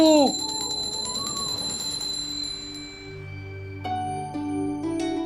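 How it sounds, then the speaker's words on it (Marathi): A prayer bell is struck with a bright metallic clang during morning worship, its ringing tones sustaining and fading, then struck again a few times toward the end. "का सकाळी घंटी वाजून डिस्टर्ब करताय?"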